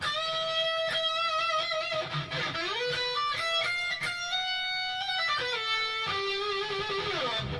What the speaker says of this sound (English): I'm going to finish by showing you this really neat little lick that I came up with